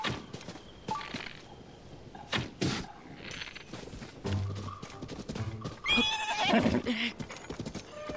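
A horse whinnies and neighs over clip-clopping hooves and game ambience in The Legend of Zelda: Tears of the Kingdom, with a few sharp impacts mixed in.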